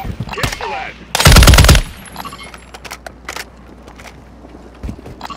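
Video-game gunfire breaks out in a loud automatic burst of about half a second, then scattered single shots and footsteps follow under faint talk.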